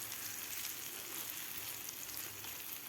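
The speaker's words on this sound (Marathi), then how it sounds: "थोडंसं ड्राय होईपर्यंत आपल्याला हे मिश्रण परतून घ्यायचं आहे." A pea and spinach cutlet mixture is sautéed in a pan on a high flame, making a soft, even frying hiss that stays faint and steady throughout with no talking.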